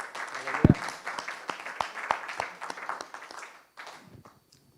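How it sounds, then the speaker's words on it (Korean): A church congregation claps steadily for several seconds during a Sunday service, the applause mixed with a few voices and tapering off toward the end. "우리 하나님 앞에 감사와 영광과 찬양의 박수 한번 올려드립시다."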